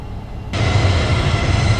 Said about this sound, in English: That's the flaps going up.